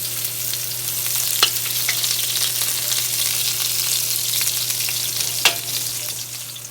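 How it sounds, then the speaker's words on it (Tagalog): Onions hiss steadily in hot oil in a pan for ginataang sitaw at kalabasa, a loud, close, even sizzle with a couple of sharp crackles and a low hum underneath. "Pag mainit na ang mantika, lalagyan natin ang sibuyas."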